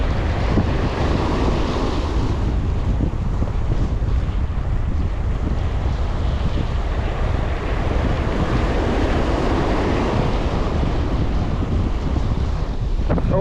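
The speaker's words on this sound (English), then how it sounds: "Oh geez, that wind's picking up." Heavy wind roars steadily into the microphone on open water while fishing during a thunderstorm, with surf and wave wash mixed in, loud and constant throughout with no talking.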